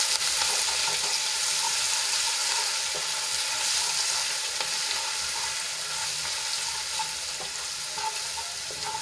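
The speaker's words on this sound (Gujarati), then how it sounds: "અને તેલમાં થોડીક સાંતળી લઈશું" Ginger, garlic and chili paste sautéing in hot oil with cumin for a dried val bean curry, a steady close sizzle and crackle that runs unbroken for about nine seconds with no talk.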